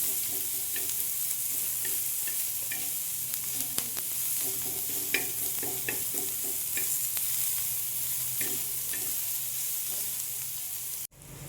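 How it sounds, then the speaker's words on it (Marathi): Brinjal bharta being sautéed in a pan, with a steady sizzle of frying running throughout and repeated scraping clicks of a spoon stirring the mash, close and fairly loud with no talking. "छान परतून घ्यायचं"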